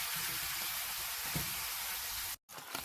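Beef mince sizzles in vegetable oil in a wok while cooking for Indonesian beef nasi goreng, a steady, soft frying hiss heard alone with a brief dropout near the end.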